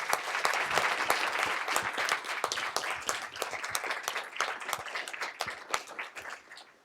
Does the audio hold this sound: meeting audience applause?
yes